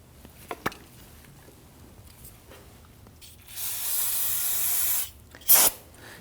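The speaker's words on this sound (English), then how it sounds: "use some spray solvent and clean this up" A loud aerosol can of brake cleaning solvent hisses continuously for about a second and a half, then gives a shorter sharp burst after some faint clicks and handling, on a 2013-2019 Ford Interceptor Utility.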